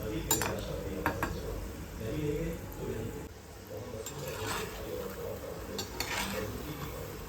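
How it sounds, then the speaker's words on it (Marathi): Gulab jamun fry gently in oil over a low flame, a soft steady sizzle with occasional spoon and pan clinks from stirring. "आता मंद आचेवरती मी हे गुलाबजामुन सगळे तळून घेते"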